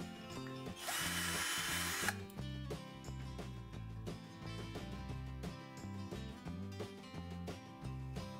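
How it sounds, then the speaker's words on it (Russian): A cordless drill whirs loudly in a burst while redrilling a hole with a 4 mm bit, then continues with clicking and rattling mechanical noise, close by, with no talking. "Меняю сверло на 4 мм и рассверливаю отверстие без сильного давления"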